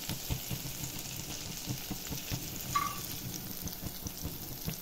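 Garlic and curry leaves frying in oil, a fine crackling sizzle with scattered pops and a brief clink of a utensil, steady and close with no talk.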